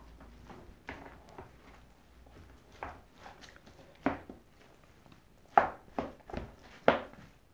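Cooked sushi rice is mixed with rice vinegar by hand, soft quiet squishing and patting taps in an irregular rhythm, close and faint against a near-silent room.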